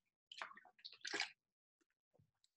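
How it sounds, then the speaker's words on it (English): A person takes a single swallow of water, a quiet, close, wet gulping sound in two short bursts, followed by faint mouth noises in near silence. "I could take a swallow of water."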